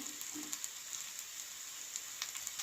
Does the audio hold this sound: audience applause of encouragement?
no